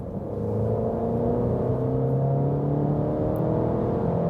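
An Italian car accelerating hard from 60 to 100 km/h, heard from inside as a steady, rising engine drone and road roar, loud and continuous.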